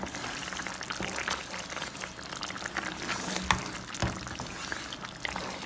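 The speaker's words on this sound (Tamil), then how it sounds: "ஆட் பண்ணிவிட்டு ஒரு கொதி கொதிக்கட்டுங்க" Steady bubbling and sizzling of a thick, spicy egg paniyaram curry simmering in a pan, with occasional soft pops and clinks, continuous and close.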